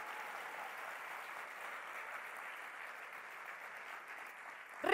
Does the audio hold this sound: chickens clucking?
no